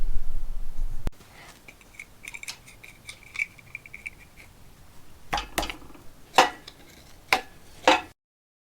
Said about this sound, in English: I'm just going to use a crescent wrench, and we'll get those suckers popped off of there